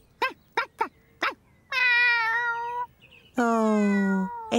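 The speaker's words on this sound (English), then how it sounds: "Meow! Meow! What's the matter, Jess" A cartoon cat lets out two long, drawn-out meows after a few short vocal bursts, clear and close; the meowing is voiced in a cartoon style.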